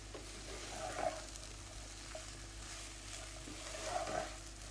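Potato samosa masala filling with pomegranate seed powder is stirred in a pan, giving soft, sparse scrapes over a faint, steady sizzle, with two slightly stronger strokes.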